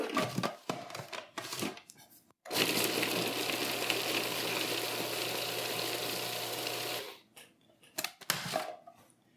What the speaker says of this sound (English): So I want to mix up the almonds so they're in small pieces, but some chunks